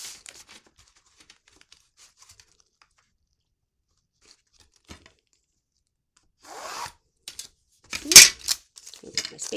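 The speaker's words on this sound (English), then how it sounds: "I'm going to get my tape again." Painter's tape pulled and handled while setting up an acrylic painting background: mostly quiet at first, then near the end a burst of close ripping and crinkling sounds with a few scattered rustles.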